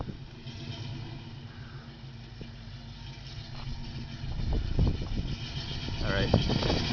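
A 1968 Ford Thunderbird drives off with a steady low engine rumble that swells a little as it picks up speed, close by and continuous, with faint road and wind noise over it.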